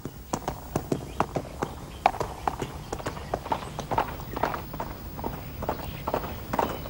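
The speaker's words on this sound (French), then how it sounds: "Finalement, c'est chouette de rentrer à cheval." Horse hooves clip-clop in a steady walking rhythm while riding home, close and clear, with regular sharp taps continuing throughout and no talking.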